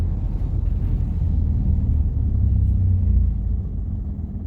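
A VW Amarok pickup in neutral gives off a deep, steady low rumble with a shuddering vibration, heard from inside the cab, continuous and moderately loud with no talking.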